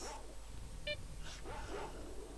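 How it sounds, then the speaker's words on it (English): Dogs barking and yelping in a fight with a boar in S.T.A.L.K.E.R.: Shadow of Chernobyl, faint and distant, a few short yips over a steady low hum. "I think it's like dogs and a boar fighting each other"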